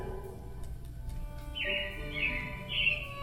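A few clear, high robin chirps ring out over a low background hum at Magic Kingdom, Disney World, coming in short bursts with gaps between them.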